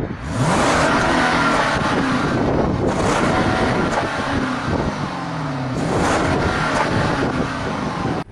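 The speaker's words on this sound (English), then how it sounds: "You got dual exhaust, and they make a nice sound." 5-litre V8 car with dual exhaust revving, loud throaty bursts rising and falling in repeated waves over several seconds, with some wind buffeting on the microphone.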